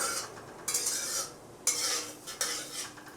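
Bay leaves, dried red chillies and cumin seeds fry in hot oil, a close hiss swelling in three bursts as a spoon stirs and scrapes the pan.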